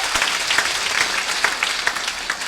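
An audience at a live event claps loudly and continuously, a dense patter of many hands with no speech.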